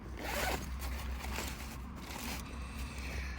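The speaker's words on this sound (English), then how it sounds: "Oh, it's got a zip on the side of it." A zip is pulled open along the side of a case for a Husqvarna 3120 clone chainsaw, giving a close, continuous scratchy rasp that runs for several seconds with no talking over it.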